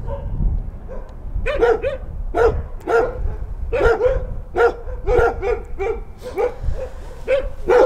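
Stray dogs at a dump bark in a rapid series of sharp, fairly close yaps with short gaps between them, over low background rumble.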